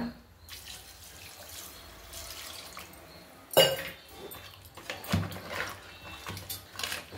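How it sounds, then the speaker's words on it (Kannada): Water poured into a pan of ground masala while making naati-style thalekal sambar, a soft running trickle with sharper splashes and a few clinks partway through, fairly close with no talking. "ಇವಾಗ ನೀರು ಎಷ್ಟು ಬೇಕೋ ಅಷ್ಟು ನೀರು ಸೇರಿಸ್ಕೊಳ್ಳೋಣ."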